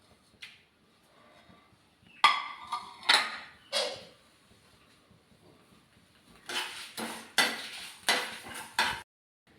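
A spoon scrapes and stirs spices dry-roasting in an oil-free pan in short rough bursts, pausing, then rattling again through several quick strokes.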